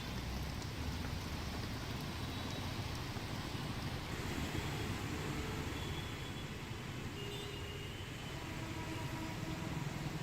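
Heavy monsoon rain pours steadily over Mumbai, a dense continuous hiss with low traffic rumble beneath, unbroken and loud throughout with no voices.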